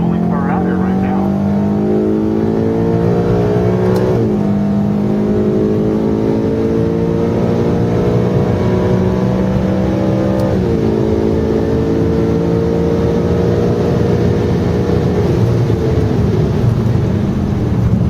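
A car drives hard on the race track at PIR, with a loud sustained engine drone that rises and falls through gear changes and turns, and voices talking over it in the cabin.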